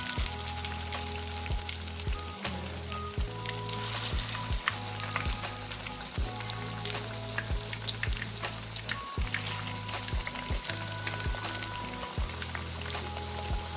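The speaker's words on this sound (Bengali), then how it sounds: "ফ্রাই প্যানে আমি পর্যাপ্ত পরিমাণ তেল দিয়ে দিয়েছি এবার আমি একে একে ভেজে নেব কাঁচকগুলো" Egg cutlets frying one by one in plenty of oil in a frying pan, giving a steady close sizzle with dense crackling pops and a few clinks of utensils on the pan.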